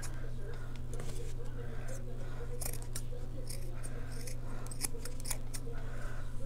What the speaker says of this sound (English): I'm just going to cut these sides down just a hair.